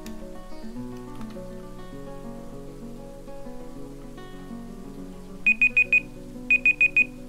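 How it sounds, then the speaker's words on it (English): A timer beeps in two quick bursts of four sharp, high electronic tones over steady background game music. "Started setting a timer that actually is going to beep at me"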